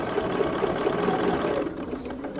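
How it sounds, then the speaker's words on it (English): A sewing machine stitching binding onto a quilt runs in a fast, even whir of needle strokes from start to finish, with no talking. "Yeah, then I just start sewing again."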